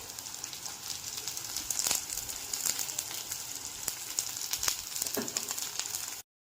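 Onion, peas and carrots sizzling in a hot pan, a soft steady hiss with scattered light clicks and pops, fairly quiet and ending abruptly.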